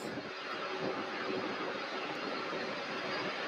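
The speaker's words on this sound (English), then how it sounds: "That was Delta Connection flight 5596 from Boston to SDF." A Delta Connection jet arriving from Boston at Louisville's SDF airport, a steady broadband engine roar heard from a distance, constant and unbroken throughout.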